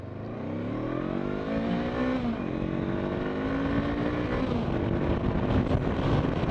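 A Honda CB500X motorcycle's 500cc engine revs up steadily, its pitch rising through the gears with a brief dip as it shifts, loud and close throughout.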